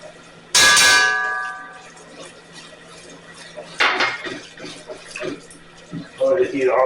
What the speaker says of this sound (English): I'm going to drop the flour and gradually keep whisking.